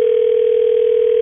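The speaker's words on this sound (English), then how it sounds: "sounds remarkably like a ringtone. Like when you call somebody." Telephone dial tone, a single steady pure tone held loud and unbroken for just over a second, with nothing else heard.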